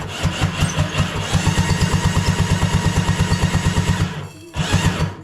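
A small motor on a 6 ft jet boat on its first test run, chugging in a fast, even beat for about four seconds, briefly cutting out, then catching again, loud and close.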